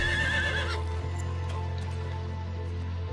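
A horse neighs loudly in Diablo IV, its whinny rising near the start and then dropping away, followed by steady game ambience and a low continuous hum for the rest of the clip.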